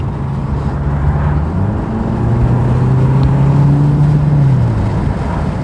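A car engine runs with a slight exhaust note, a loud steady low rumble that swells slightly as the revs rise and then settle.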